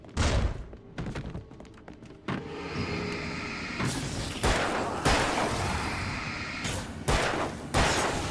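A flashbang detonating in the video game Alan Wake, heard as a series of loud, sharp broadband bursts and thumps, several distinct blasts over a few seconds with lingering rumble between them.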